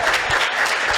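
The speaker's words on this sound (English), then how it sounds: "I think Professor Cohenberg deserves a round of applause for entertaining us." An audience claps in a steady, dense burst of applause at a postgraduate awards ceremony, filling the room at full volume for a moment.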